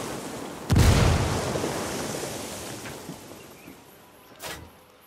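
A frag grenade detonates in a Tom Clancy's Ghost Recon PvP match, a single loud close blast with a long rumbling, noisy decay, followed by a smaller thump near the end.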